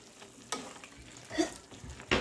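Pork menudo stirred and fried in a hot pan: a few sharp scraping strokes and bursts of sizzle over a low frying hiss, close and moderately loud, with no talking.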